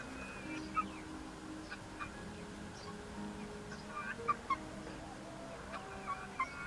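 Chickens cluck close by in short, scattered calls, a few sharper squawks popping up over a quiet background at low volume.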